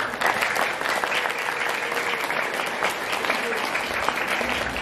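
An audience at a Quran memorization school gathering claps for Fajar, a continuous, evenly dense round of applause at moderate volume that carries through the whole stretch without pause.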